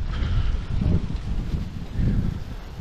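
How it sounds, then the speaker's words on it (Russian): Wind gusting outdoors at a country dacha, buffeting the microphone in low rumbling surges, fairly loud and steady with no voices. "Вот сейчас, кстати, ветер дует."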